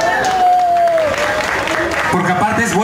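Crowd applauding a band at a live music event in San Bartolo Naucalpan, loud sustained clapping with cheering voices and a brief tonal whistle mixed in.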